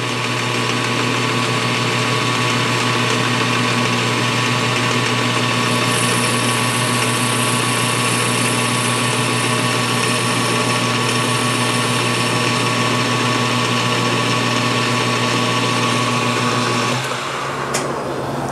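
Steady machine drone of a drill boring a cast cylinder head for a five-cylinder radial engine, constant motor hum with a high whine, continuous and close, cutting off abruptly near the end.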